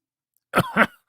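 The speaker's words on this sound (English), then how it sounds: "Had to clear my throat, and it still ain't cleared." A man clears his throat close by, two short harsh rasping bursts in quick succession after a moment of silence.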